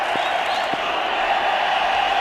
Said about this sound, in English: The crowd's pretty happy.